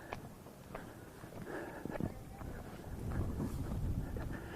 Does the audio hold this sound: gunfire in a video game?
no